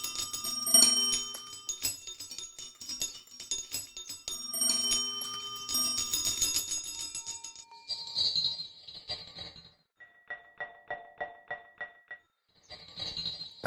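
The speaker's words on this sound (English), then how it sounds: "it was just a bunch of clangy bell type metallic sounds that I imported." Clangy metallic bell-like tones from a NOISES software instrument preset ring out in shimmering clusters, then give way to a steady run of short, evenly spaced chimes and a final bright clang, with no talking.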